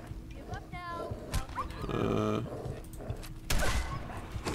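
A dog barks in Fallout 4 gameplay, a few short yelps amid game noise, with someone talking over the action.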